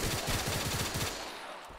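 Rapid automatic gunfire from a weapon in Black Ops 3 Zombies, a fast, steady burst of close, loud shots lasting about a second before cutting off into a fading tail.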